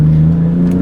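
A Nissan R33 GTR held on two-step launch control, a steady, loud buzzing idle-rev drone with a strong low tone, close by and unbroken for under a second, no talk.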